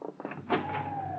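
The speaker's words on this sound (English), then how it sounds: "I'll open the door for you." A door opening as a 1940s radio drama sound effect: a short latch click and creak, then a drawn-out squeaky swing, close and fairly quiet.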